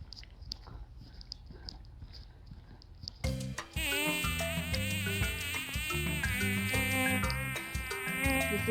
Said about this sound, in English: There's lots of bugs here.